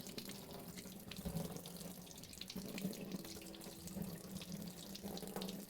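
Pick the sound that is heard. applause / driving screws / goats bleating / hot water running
hot water running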